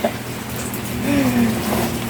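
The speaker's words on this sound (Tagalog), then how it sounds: "lakas kasi ng ulan eh" Heavy rain at night hisses steadily and loudly, a dense wash of drops drumming on a boat with no break.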